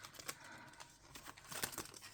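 Paper crinkles and rustles faintly up close as cash bills are stuffed into a paper envelope, with a few soft crackling bursts and tearing-like rasps and no talking.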